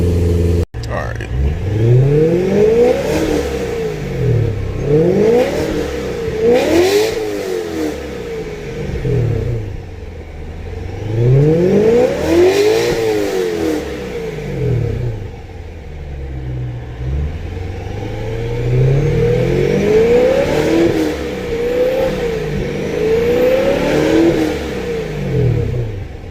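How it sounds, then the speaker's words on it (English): A supercharged BMW E92 M3 engine revs repeatedly up and down, close and loud, with rising and falling sweeps between quieter idle stretches. "before I rev it and test it"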